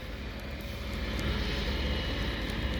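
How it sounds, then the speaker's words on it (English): A small mini snowblower runs steadily nearby as it clears snow during a Montreal snowstorm, a constant droning engine hum that holds level throughout with no voices over it. "Look at this mini snowblower."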